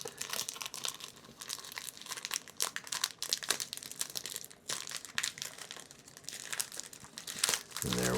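Plastic wrapping on a five-pack of cigars crinkles and tears continuously as it is unpacked, close and fairly loud, with bursts of crumpling throughout.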